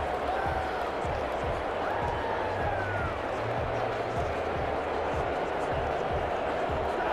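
Steady stadium crowd roar from a simulated Madden 21 NFL game, Chicago Bears against Atlanta Falcons, a loud home-field din with low drumming thumps running underneath for the whole stretch.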